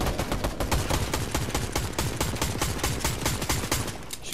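Rapid, steady automatic gunfire in Fortnite, a continuous close stream of evenly spaced shots throughout, loud and alone without voices.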